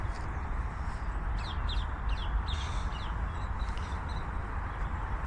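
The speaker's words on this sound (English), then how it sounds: "Nice bird singing up there." Bird calls ringing out from up in the trees of Winton Park in Eccles, a few short repeated chirps and phrases scattered over a quiet, rumbling outdoor background.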